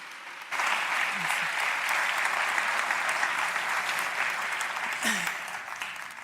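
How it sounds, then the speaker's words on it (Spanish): An audience at a science talk gives a sustained round of applause for speaker Irene Cózar, a steady even wash of clapping at moderate level, with a brief voice heard under it. "un fuerte aplauso para Irene Cózar"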